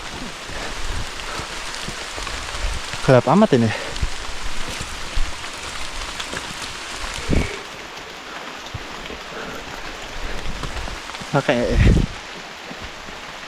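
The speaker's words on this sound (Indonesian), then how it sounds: "Oke, hujan makin deras." Heavy rain in a forest on a hiking trail, a steady hiss of falling rain running throughout, with people briefly talking and a few louder rustles and thumps nearby.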